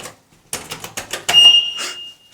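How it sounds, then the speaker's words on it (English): An alarm in an old lift in an abandoned Tesco store gives a brief shrill electronic tone, loud and close, among clattering knocks and footsteps. "is that alarm still on?"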